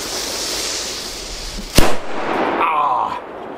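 A red Corsair firecracker goes off in a single sharp, loud bang that rings briefly over steady outdoor background noise, tested against a Funke A-Böller firework.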